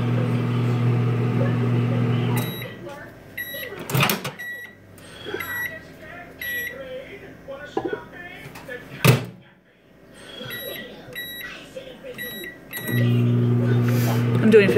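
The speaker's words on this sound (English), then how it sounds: "you're going to microwave it on each side for 10 seconds" A microwave oven hums at the start and end, with beeps, a door opening and closing, and a person talking in between.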